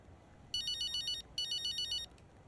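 A phone rings in the racing game F1 25 Braking Point: two bright electronic ringtone bursts, each trilling for under a second with a short gap between, clear and alone over quiet background.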